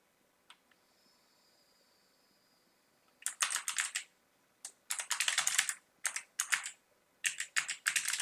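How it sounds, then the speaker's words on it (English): Typing on a computer keyboard, fast bursts of close, crisp key clicks separated by short pauses, starting after a few quiet seconds with a faint tone and a couple of isolated clicks. "if I type his name in here, it probably won't come up"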